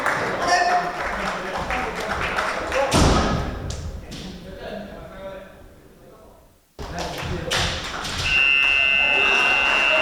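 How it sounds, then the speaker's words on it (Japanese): A kendo match buzzer sounds during a Samurai League team bout, a steady electronic tone near the end over crowd noise and commentary, with thuds and taps heard earlier. "ここでブザーが鳴りました"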